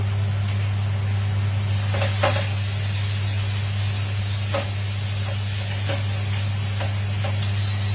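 Onions fry to golden brown in a pan for an egg masala curry, giving a continuous loud sizzle under a steady low hum, with occasional soft knocks and stirring clicks.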